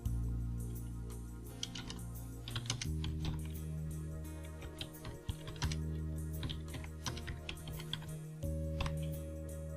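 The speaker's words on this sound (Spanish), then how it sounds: "si yo por ejemplo escribo algo nuevo" Keys clatter on a computer keyboard in irregular bursts of quick taps, close and fairly quiet, with low background hum.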